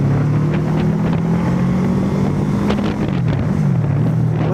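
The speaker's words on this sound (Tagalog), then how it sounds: "Nag-alarm yung sasakyan kasi sobrang ingay nitong motor na to." A loud motorcycle engine runs steadily close by, its constant drone shifting slightly in pitch under heavy wind buffeting, with no talking.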